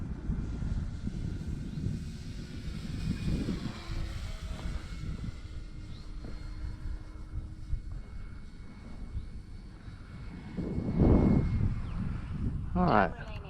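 An E-flite Cirrus SR22T four-cell electric RC airplane flies past on a grass field, its motor whine building to a louder pass near the end while people talk over it.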